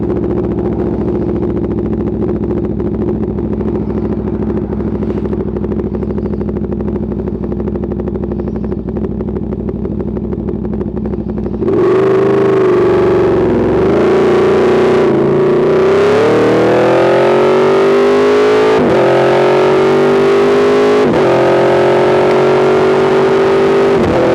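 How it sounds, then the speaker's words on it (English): A 2017 Aprilia Tuono V4 1100 Factory hums at a steady drone while riding, then erupts into loud, close acceleration, its V4 howl rising repeatedly through successive gear changes. "the sound produced by this bike is insanely good"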